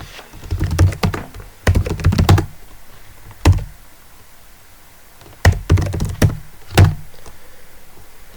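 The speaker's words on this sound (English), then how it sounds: "I will type http" Clusters of typing on a computer keyboard, with quick close-up key clacks in short bursts separated by quiet pauses and a few single heavier keystrokes.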